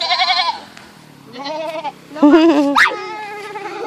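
Several goat bleats, wavering and nasal, come in bursts with short pauses between them, close by, with a thin high cry near the end.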